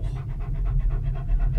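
Two dogs pant inside a tiny four-person cable car cabin on the way up a mountain, with quick, rhythmic, close breaths over a low mechanical rumble.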